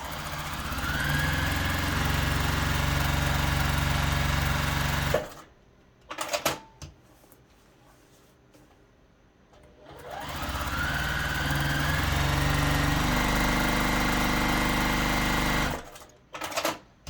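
A sewing machine stitching quilt fabric runs in two steady, loud bursts of rapid mechanical whirring and clatter, separated by a few seconds of quiet handling and rustling.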